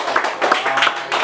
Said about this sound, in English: Also, we need a clap for him because he did it.